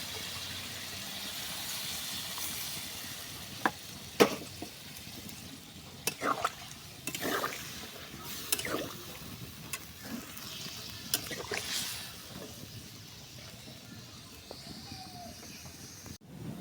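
Water is poured into a pan of meat that has been fried until its oil runs out, making a sizzling splash with stirring scrapes and clinks throughout.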